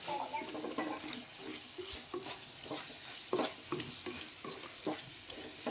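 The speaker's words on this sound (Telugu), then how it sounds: "ఇప్పుడు ఒక హాఫ్ స్పూన్ సాల్ట్ ఉప్పు ఇలా కలబెట్టుకొని" Salt being stirred with a spoon into a bottle gourd and tomato curry in a pan, with a steady low sizzle and repeated soft scraping strokes against the pan bottom, close by.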